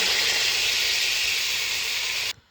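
Water poured into a hot cauldron of fried potatoes bursts into a loud, sustained hissing sizzle, steady and close for about two seconds before stopping abruptly.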